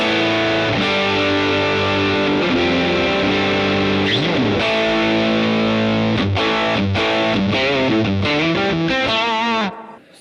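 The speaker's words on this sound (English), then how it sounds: "serious amounts of gain out of an amp, and you can for sure get some really kind of screaming tones" High-gain, heavily distorted electric guitar through a Mesa Boogie Mark 1 reissue amp, loud sustained chords and screaming bends ringing out alone for about ten seconds before cutting off.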